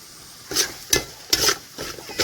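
Spices (fennel seed, turmeric and pepper powder) frying in a pan for a coconut-milk crab roast, giving a low sizzle broken by four sharp scraping stirs close by, no voices.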